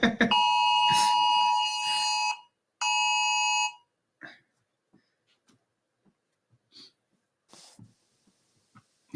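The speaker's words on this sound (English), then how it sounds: "That was that alarm for anyone realising why there was a delay." A government emergency alert alarm blares loud, steady multi-tone beeps in two long bursts, then cuts off, leaving quiet breathing and small rustles.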